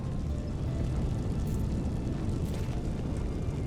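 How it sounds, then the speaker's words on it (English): A low, steady rumbling roar from an explosion along railway tracks in the Tales of Arise video game, sustained and loud throughout with no break. "Sounds like there was an explosion along the tracks."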